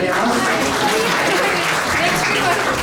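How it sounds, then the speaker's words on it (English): Dense, steady audience applause fills a Krishna Janmashtami celebration at an ISKCON temple in Burlington, loud and continuous throughout with crowd noise underneath. "Big round of applause for our Kirtaniya."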